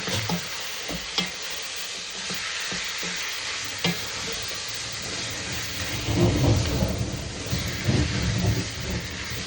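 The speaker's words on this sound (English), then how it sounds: "Sorry, you can hear the thundering." A low, distant rumble of thunder during rain rolls in under the sizzle of biryani ingredients frying and occasional clinks of stirring.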